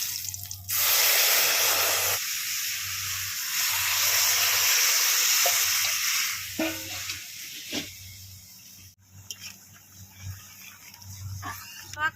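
Sour mango-tamarind liquid poured into a pan of hot mustard oil with dried red chillies and black mustard seeds, giving a loud, sustained hiss and sizzle that fades, then scattered drips and clatters, over a steady low hum.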